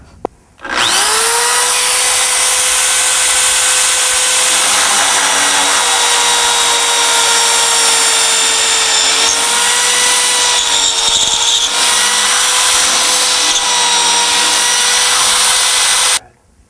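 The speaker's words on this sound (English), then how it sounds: "We're going to drill one with a twist drill and the other with a Forstner bit" Twist drill boring a hole through a wooden practice spar for an aircraft wing, a steady high-pitched power-drill whine running continuously and loud for about fifteen seconds with slight shifts in pitch as the bit cuts the wood.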